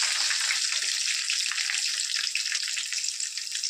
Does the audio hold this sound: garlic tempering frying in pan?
yes